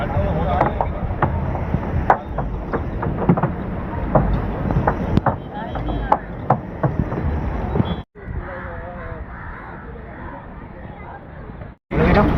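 A boat on the water at Baga Beach, Goa, with wind buffeting and scattered sharp knocks, under crowd chatter and voices close by.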